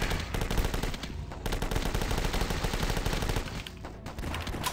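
Rapid automatic gunfire in The Last Stand 2 video game rattles in dense continuous bursts, with a few brief pauses, moderately quiet and with no voices.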